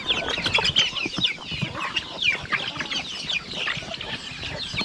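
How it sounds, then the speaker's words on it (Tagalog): Native chickens cluck and chatter nearby in a farmyard, a busy overlapping flock sounding moderately loud without any talk. "Yan po yung mga manok natin."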